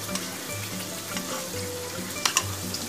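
Spice paste sizzling and frying in a pan for a light Bengali fish curry with bata fish, a soft steady crackle with occasional stirring scrapes and a couple of brief clinks.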